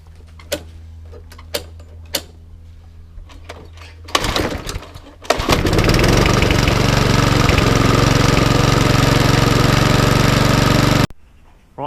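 An old, slightly corroded lawnmower engine is pulled over a few times with sharp ticks and a rattling burst, then catches and runs loudly and steadily for several seconds before cutting out, outdoors on a windy day.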